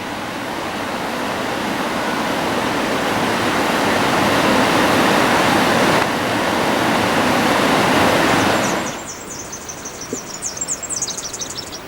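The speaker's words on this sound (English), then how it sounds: "there is a lot of water still coursing down" Lots of water coursing down a stream beside a swimming hole, a loud continuous rushing roar lasting about nine seconds before dropping away to quieter ambience with faint insect-like chirping.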